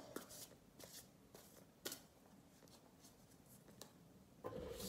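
Tarot cards are shuffled and cut by hand, a series of soft riffling bursts and flicks at irregular intervals, quiet and close, ending in a longer rustle.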